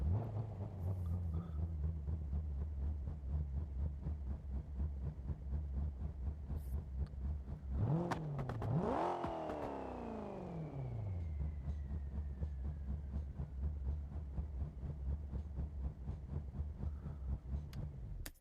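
A turbocharged 5.3 engine in a muscle truck in BeamNG.drive drones at a steady rumble, then revs up and falls back once mid-way before settling into the same constant drone.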